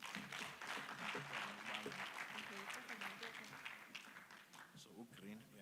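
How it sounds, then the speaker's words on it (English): Applause at a vocational education conference, clapping heard under and between ongoing voices, with talk continuing over the crowd. "Let's give a good round of applause."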